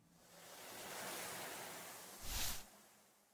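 Sea waves washing onto a beach in a horror video game, a soft continuous surf hiss with one brief louder swell, faint and distant, with no voices.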